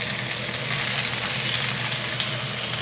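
Green onions and jalapeno peppers sizzle in a hot pan for steak tacos, a steady, close frying hiss that runs unbroken throughout with no talking.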